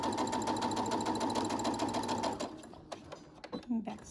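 A sewing machine stitches a homemade fabric medical mask, a fast steady mechanical whirr close up for about two and a half seconds before stopping, followed by a few handling clicks and faint speech.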